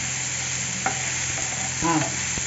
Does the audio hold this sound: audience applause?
no